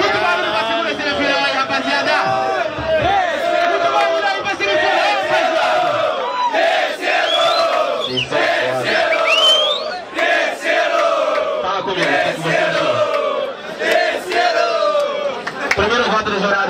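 A crowd at a Brazilian rap battle shouts and cheers loudly over a sung chorus, voices massed and continuous with rising yells throughout.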